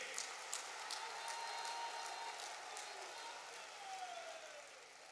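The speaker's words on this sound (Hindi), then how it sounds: "सब लोग ताली बजा करके इनका अभिनंदन कीजिए।" A large crowd applauds the Pahadiya children at a development project launch in Sahebganj, Jharkhand, a sustained, distant roar of clapping with a few sharp claps and faint tones.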